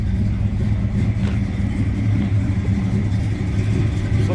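1973 Plymouth Duster engine idling steadily through a Flowmaster exhaust, a close, continuous low burbling rumble with a slightly uneven cam lope and no other sounds.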